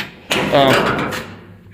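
A truck door on a 1962 C20 crew cab is pulled open with a sharp clunk and a brief rattle, up close, with a voice over it.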